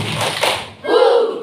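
Classroom pupils clap once together in a patterned 'tepuk satu' clap, giving a dull, thudding group burst that is quickly followed by voices.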